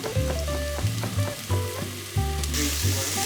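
Garlic and onions sizzle steadily in a hot pan while being stirred, with repeated scraping and clinking strokes of a utensil against the pan over a constant frying hiss; no voices.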